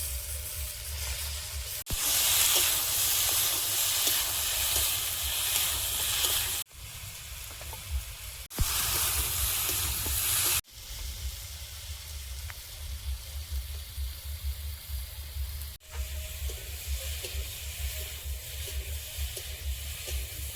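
Vegetables with tomato and green chilli frying in a pan, a steady close sizzle and hiss with a few abrupt jumps in loudness and light stirring, no talk.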